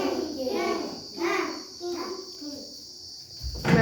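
A group of children in a classroom voice their imitation of a duck's call in a few short, overlapping bursts, fairly quiet and close, with a steady insect-like hiss beneath.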